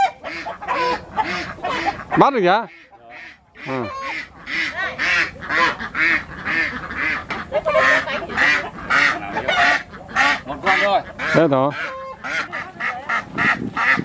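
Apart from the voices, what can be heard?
ducks quacking as one is caught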